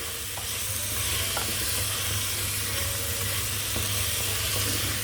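Turmeric and cumin seeds fry in a hot pan with a dense, steady sizzle, while a utensil stirs them with a few light scrapes and taps, heard close and without speech.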